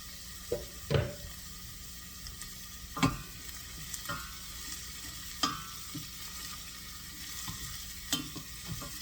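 Garlic frying in a pan for a sole pizzaiola pie, a soft steady sizzle broken by intermittent scraping stirs and clinks of a utensil against the pan, close but fairly quiet.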